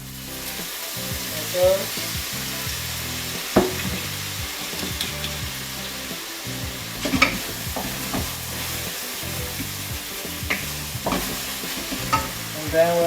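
Half a tablespoon of oil sizzling and frying in a pan while Taiwanese pork chop is cooked, with stirring clatter and scattered clinks throughout; a voice speaks briefly.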